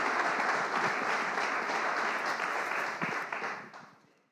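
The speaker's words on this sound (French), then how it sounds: "Je vous laisse applaudir." Audience at a conference on decarbonisation breaks into sustained applause, dense and even, filling the room before fading out at the end.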